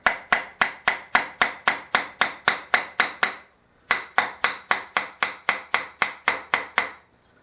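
A thin putty knife is tapped and driven around the edge of a waste block glued to a turned canary wood bowl, giving sharp, evenly spaced knocks in two quick runs with a brief pause between them.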